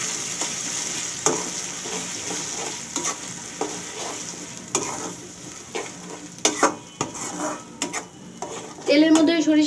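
Mustard paste sizzling in hot oil over browned onions, cooking for a mustard hilsa curry. A steady close frying hiss runs under repeated stirring scrapes and utensil knocks, which grow busier toward the end.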